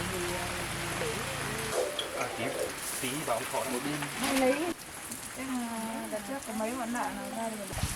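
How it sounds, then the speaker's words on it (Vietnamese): Steady rain falls outside during a trip to Tà Xùa in northwest Vietnam, a soft, constant hiss sitting under a person talking throughout. "Ngoài trời thì mưa rả rích"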